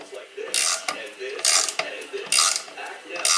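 Bushing puller tool pressing a trailing arm bushing out of a 1968 Triumph TR250 suspension, a series of sharp metallic ratcheting creaks and clicks coming in four close, loud bursts.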